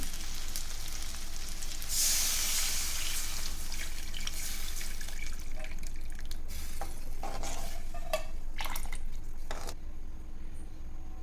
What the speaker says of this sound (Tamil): புளி கரைச்சி வச்சுருக்கோம்ல அதை ஊற்றிக்கலாம்